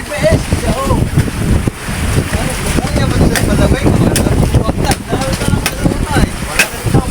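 Strong wind batters the microphone aboard a boat at sea in rough weather, a continuous loud roar and rumble with gusting texture and splashing. Voices speak intermittently over it.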